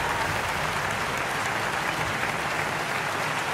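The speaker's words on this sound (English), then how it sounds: "Round of applause." A dense, continuous wash of crowd applause holds steady throughout, many hands clapping together at an even level with no pauses and no audible talk.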